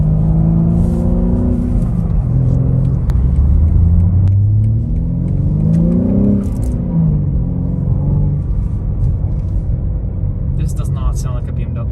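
2021 BMW M3 G80 with a manual gearbox accelerating on the road, heard from the cabin as engine pitch climbs and falls through the revs, a steady rumble under close conversation between occupants.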